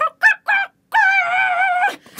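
A voice imitates a rooster crowing: three short clucking notes, then a long, drawn-out cock-a-doodle-doo cry, loud and close with brief pauses between.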